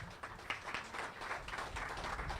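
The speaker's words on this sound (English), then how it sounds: "If we can give her a round of applause." A round of applause from a gathered crowd greets an official at a Consumers Energy and Mundy Township funding announcement, a steady, moderately quiet patter of many hands lasting a couple of seconds.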